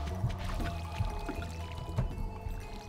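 A watering can splashes water over crops in Stardew Valley, quiet repeated pouring and dripping sounds arriving in short bursts about once a second.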